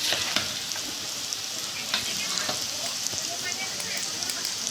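Onions frying for a chicken curry crackle and hiss in a steady, dense sizzle, with scattered small pops and occasional stirring scrapes; a voice talks faintly beneath it.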